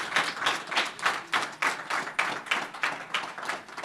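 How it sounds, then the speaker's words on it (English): Steady applause from an audience, many hands clapping in a dense, continuous patter that swells in rhythmic pulses and carries on without talk. "everyone please give me a round of applause for our panelists"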